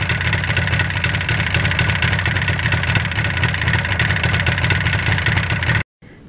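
Yamaha RD400 motorcycle engine running with its RPMs dropping, a steady throbbing idle-like drone with regular pulsing, loud and near, then cutting off abruptly near the end.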